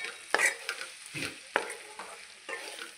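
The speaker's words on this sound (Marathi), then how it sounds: "आता तो आपल्याला हलवून असा मिक्स करून घ्यायचा आहे" Okra with crushed peanut powder is stirred in a hot pan, producing several distinct scraping strokes over a gentle sizzle, close and clear, with no talking.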